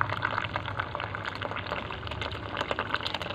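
Hot water poured from a kettle or pot into a cup of coffee, a steady close liquid splashing and gurgling stream running throughout without pause.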